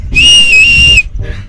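A woman in Chennai gives one loud, steady, high whistle lasting almost a second, very close, followed by a short weaker whistle attempt.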